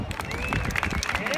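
Applause and crowd noise for a BMX rider at a Zaragoza BMX event, short burst of clapping mixed with babble and a voice on a PA over it.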